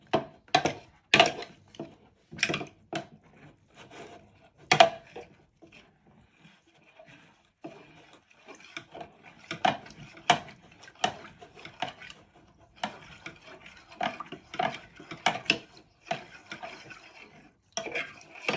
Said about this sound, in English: with a fork you want to give it a good stir